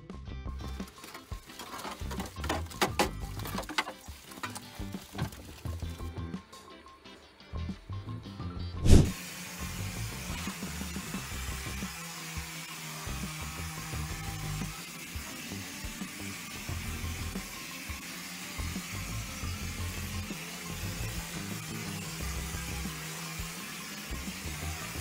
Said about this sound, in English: Then the machine pumps and sprays the mortar.